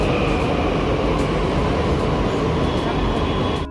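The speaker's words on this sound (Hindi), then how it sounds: "ये हम मेट्रो में हैं" A steady loud rumble and rush from inside a moving, crowded Delhi metro train, constant throughout with faint murmuring in the background.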